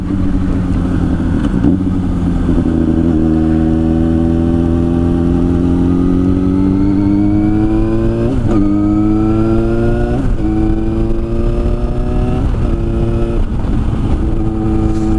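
A 2009 Yamaha FZ6 motorcycle with a Leo Vince aftermarket exhaust runs continuously and loud, its engine note climbing through several rising revs with brief dips at shifts, close and steady throughout.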